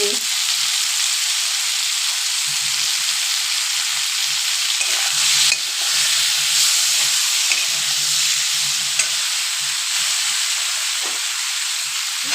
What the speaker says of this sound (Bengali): দিয়ে দিলাম জিরে ধনে গুঁড়ো, আমি একসাথে করে রেখেছি।